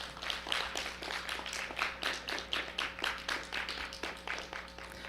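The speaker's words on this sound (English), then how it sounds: "Let's give everybody a big round of applause." At a county science fair awards ceremony, a small audience claps in a faint, thin, steady patter of individual hand claps that sounds distant and quiet throughout.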